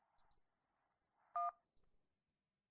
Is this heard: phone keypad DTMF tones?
yes